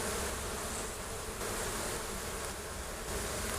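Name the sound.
honey bees buzzing around a hive during inspection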